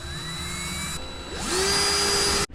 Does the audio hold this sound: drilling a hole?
yes